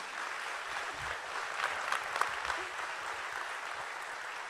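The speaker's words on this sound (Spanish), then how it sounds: "Un aplauso para don Ivo y para Marilyn Cochamanidis." An audience applauds for two honoured guests at a talk, an even, moderately distant wash of clapping that holds steady throughout without voices standing out.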